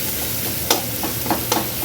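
Vegetables fry with a loud continuous sizzle in a pan, and a few sharp scraping stirs of a spatula land at irregular intervals over the hiss.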